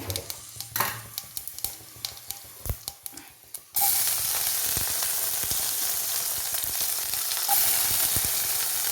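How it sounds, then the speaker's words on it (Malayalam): Okra dropped into a hot oiled pan for sambar with asafoetida, starting with a few light clatters and stirring taps, then a sudden, loud, steady sizzle that keeps going close up. "ഇനി വെണ്ടയ്ക്ക് ഇട്ട് കൊടുക്കാം"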